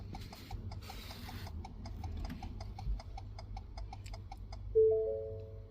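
Trailer relay in a 2019 Ford Transit clicking rapidly, a fast, even series of faint mechanical ticks heard close up, ending with a brief electronic warning tone, with no speech.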